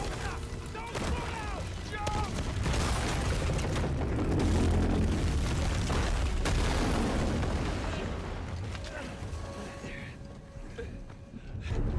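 Explosions rumble through a chase scene in an Uncharted video game, a dense, loud, continuous roar of booms and crashing effects that swells and then eases, with a voice talking over it.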